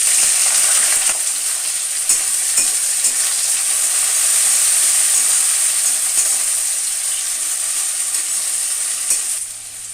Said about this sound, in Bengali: পেঁয়াজটা হালকা ভাজা ভাজা হয়ে গেছে